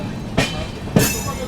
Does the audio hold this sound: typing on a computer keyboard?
no